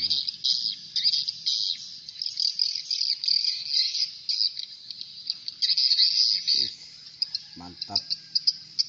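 Swiftlets chirp densely in high, continuous twittering in response to the SP Jawara 77 swiftlet call, heard outdoors at about 4:30 with a busy buzzing texture and a few louder low thumps near the end.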